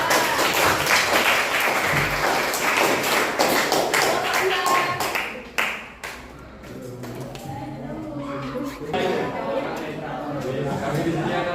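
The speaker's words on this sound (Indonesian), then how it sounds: "Tepuk tangan untuk Mirza" Classroom students applauding a classmate: a burst of scattered clapping that thins out after about five seconds, followed by taps, shuffling and talking in the room.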